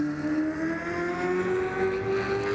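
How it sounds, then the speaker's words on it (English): A 7-litre V8 desert race car at the Finke Desert Race prologue revs harshly at the start line, its rising, rough engine note loud and close and holding a sustained climbing pitch. "7-litre V8, and it sounds so cranky as it's about to get off the line here."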